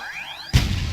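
Pokemon battle attacks in the Pokemon MMO-3D video game, an Executor and a Snorlax fighting in a PvP arena with Barrage: a rising tonal whoosh, then a sudden loud crashing impact with a noisy rumbling tail.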